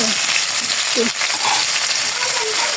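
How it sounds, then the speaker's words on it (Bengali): Vegetables frying in oil with turmeric, salt and chili powder, giving a steady, close hissing sizzle throughout with a few faint clinks. "বড়াগুলো এখন তেলের মধ্যে সবজিগুলো দিয়ে দিলাম এখন হলুদের গুঁড়া লবণ মরিচের গুঁড়া দিয়ে"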